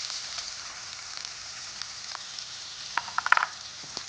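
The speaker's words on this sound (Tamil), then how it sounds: "இப்போ வெங்காயம் போட்டுக்கலாம்." Onions dropped into a hot pan give a soft, steady sizzle with scattered crackles. The crackles cluster into a brief louder burst near the end, with no talking.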